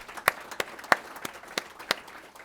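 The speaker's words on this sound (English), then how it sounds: "let's give our media sponsors a round of applause," Sparse, scattered claps from a small business-luncheon audience acknowledging media sponsors, about eight distinct hand claps spread over a couple of seconds, fairly faint and thin rather than a full ovation.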